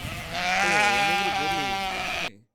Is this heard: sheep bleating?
yes